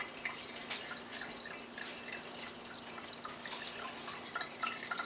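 Rendered beef tallow trickles through a filter into a jar, a faint, continuous patter of small drips and fine liquid ticks with a low steady hum underneath and no voices.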